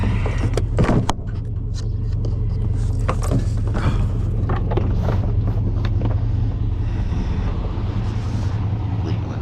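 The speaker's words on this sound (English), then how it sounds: "Leaving the truck running." A pickup truck's engine idles steadily nearby, a continuous low rumble running throughout, with a few faint clicks and rattles from around the vehicle on top.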